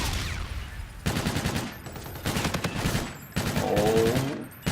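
Rapid bursts of gunfire in a Search and Destroy video game match, several loud sustained volleys separated by short gaps, with no talk.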